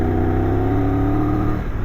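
A Triumph 1200 Rally Explorer motorcycle engine growls loudly and close by, a deep, steady idle rumble with a slight rise near the end, heard alone.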